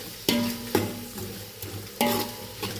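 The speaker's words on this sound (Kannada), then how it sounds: "ಈರುಳ್ಳಿ ಚೆನ್ನಾಗಿ ಫ್ರೈ ಆಗಬೇಕು." Onions frying in a pan with bay leaves, cinnamon, cloves and cardamom for chicken biryani: a soft sizzle beneath several sharp metallic clanks of a spoon stirring against the pan, close and fairly quiet.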